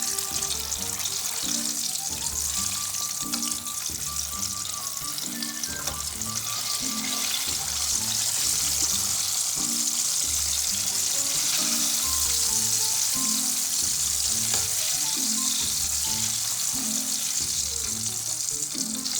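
Tomatoes fry in a pan with a steady, close sizzle and crackle that continues throughout, while a low, rhythmic clatter and occasional stirring sit beneath the hiss and no voices are heard.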